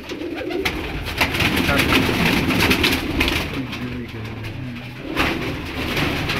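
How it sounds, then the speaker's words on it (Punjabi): Red and blue pigeons, including a red pied bird, coo steadily and fairly loudly at close range, a continuous throaty murmur with a voice briefly heard in the background. "ਲਾਲ ਡੱਬਾ ਕਬੂਤਰ ਹੈ ਜੀ"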